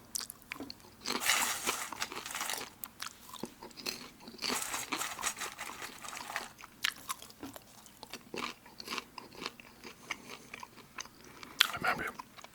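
Crunchy Chicago-mix popcorn, caramel corn and cheese corn, being chewed close to the mic, with repeated crisp bites and crunches throughout and no talking.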